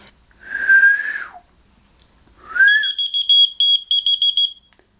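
Two rising human whistles are followed by a whistle-activated keychain finder's shrill, high beeps in a rapid series of about seven short pulses, close and clear.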